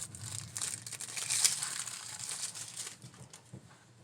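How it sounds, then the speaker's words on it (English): Plastic wrap being peeled and crumpled off a deck of playing cards, making close, quiet, continuous crinkling and rustling with a few sharper crackles. "I need to get the plastic off, otherwise it glares really bad in the"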